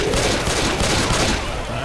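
A pistol fires a dense, continuous barrage of shots in the video game Left 4 Dead 2, loud and close for the whole span.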